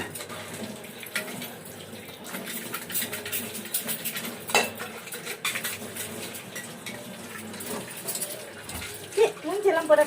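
Dishes, pots and pans being scrubbed and rinsed at a home kitchen sink, with clinks of cutlery, running tap water and stirring sounds, a busy steady clatter throughout with talk over it.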